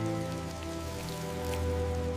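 Steady rain falling over Grindelwald village in Switzerland, a continuous close patter and wash on surfaces with no voices, layered over a low constant hum.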